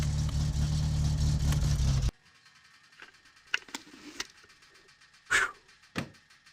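Loud unmuffled car engine from My Summer Car, a steady roar lasting about two seconds before cutting off abruptly, followed by quiet scattered knocks and clicks.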